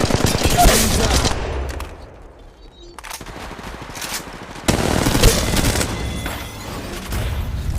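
Rapid automatic gunfire in a battle-royale video game, dense bursts of loud shots with a brief lull in the middle before the firing resumes, under game voice callouts.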